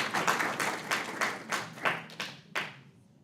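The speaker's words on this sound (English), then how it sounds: "One more round of applause for Justin." A school board meeting audience claps for an honored student, a modest group applauding in bursts that thin out into a few scattered, distinct claps before fading to quiet.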